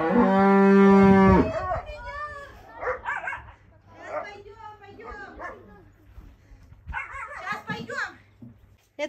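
A cow mooing on a farm gives one long, loud, close moo at the start, and someone speaking follows it.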